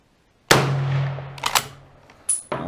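A single sharp rifle shot from a 1918 Rock Island 1903 in .30-06 on an outdoor range, loud and close with a long rolling echo, followed by the metallic clacks of the bolt being worked.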